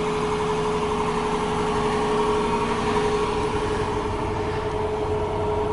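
A 2014 Jeep Grand Cherokee Overland with a 5.7-liter Hemi V8 idles steadily and loudly up close, a constant low rumble with a faint whine and no talking.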